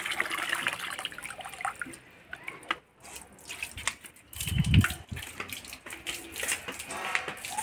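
Water pours from a bucket onto a banana plant in hot sun, a soft splashing gush that swells and fades, with scattered drips and no voices.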